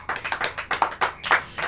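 A church congregation clapping hands, a quick run of about eight sharp, rhythmic claps in under two seconds, close and fairly loud with no talk.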